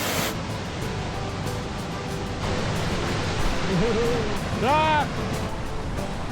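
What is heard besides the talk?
waterfall near the trail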